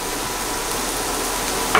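Garlic sizzles steadily as it is stirred around a pan for a vegan Spanish omelette, a continuous close frying hiss with a brief louder scrape near the end.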